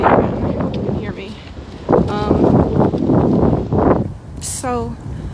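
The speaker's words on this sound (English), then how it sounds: "it's windy again" Gusts of wind buffet an outdoor microphone, rumbling in loud uneven bursts while a person talks over it.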